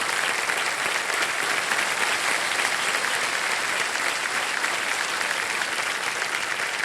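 A studio audience on the quiz show Kaun Banega Crorepati applauds a contestant's win, a dense, even roar of clapping that holds steady at full strength for about seven seconds with no voices over it.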